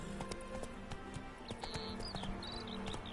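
Roach, a horse in the video game The Witcher 3, galloping with a steady rhythmic clip-clop of hooves, close and clear, with faint game sounds and a snort or whinny in the background.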